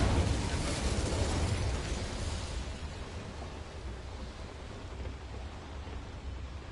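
An incendiary fire spell from Hogwarts Legacy erupts as a loud, broad whooshing blast at the start, then fades into a long, dense rumbling roar with no talking.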